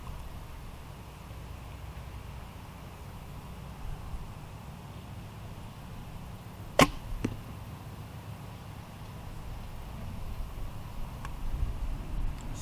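A gold tip arrow, fitted with a standard gold tip nock, shot from a 56-inch recurve bow gives one sharp release snap near the middle and a quick second click just after, over a low steady outdoor hiss.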